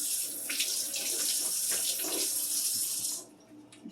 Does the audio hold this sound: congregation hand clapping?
no